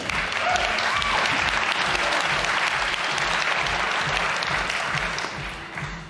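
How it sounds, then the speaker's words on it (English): Sustained audience applause at a PC Gaming Show press event during E3, a dense, steady wash of clapping from a large crowd that holds loud for several seconds and then tapers slightly at the end. "Thanks for the warm applause."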